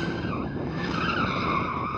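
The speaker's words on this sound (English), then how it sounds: "Don't drift in reverse. Drift forward." Car drifting during a tyre warm-up before a Porsche 911 Turbo S versus BMW M3 xDrive drag race, a continuous loud tyre squeal and skid with engine roar throughout.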